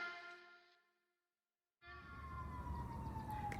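A wailing emergency siren with a steady tone fades out, then returns loudly after a short silence, its pitch slowly sliding downward.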